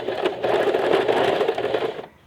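A sewing machine stitches fabric patchwork squares, a fast continuous whirring hum running steadily for about two seconds and then stopping, close and alone.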